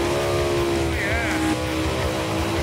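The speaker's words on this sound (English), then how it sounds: "no, that's a burnout" A big block Chevy Nova drag car rumbles loudly and steadily while doing a burnout, a continuous dense engine roar with a brief rising whine partway through, and voices talking over it.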